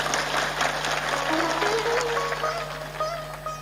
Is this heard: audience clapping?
yes